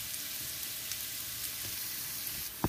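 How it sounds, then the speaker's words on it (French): Garlic and shallot frying in oil in a pan, a quiet steady hiss with a few light clicks and a sharper knock at the end. "Avec un peu de l'huile, je vais sauter l'ail et puis échalote."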